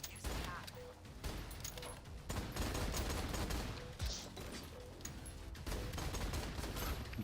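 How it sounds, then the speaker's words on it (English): Gunfire in a VR sci-fi shooter game, including a sniper rifle, with dense continuous volleys of shots and crashes throughout alongside a talking voice. "Oh, this guy's got a sniper rifle."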